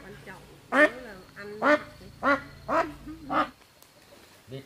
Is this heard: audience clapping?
no